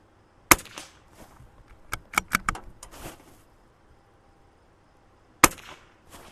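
Rimfire gunshots are fired at steel gong targets on stake bases at an outdoor range about 50 yards out: a single sharp crack, then a quick cluster of four, and one more after a gap, with faint ringing tails.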